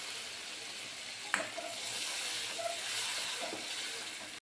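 Steady sizzling and hissing of egg masala gravy spices frying in a hot pan, with a few light stirring clinks, close and continuous.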